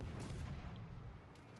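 Naval artillery fire from warships in World of Warships Legends, a low rumbling boom of guns that is fairly faint and spread across the moment, with no speech over it.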